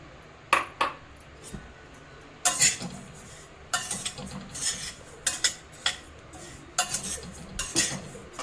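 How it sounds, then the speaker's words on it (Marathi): Cumin seeds being dry-roasted in a pan, with a spoon clinking and scraping against the metal in irregular bursts, close and fairly quiet. "हे बघा जिरे पण असेच भाजायचे आहे।"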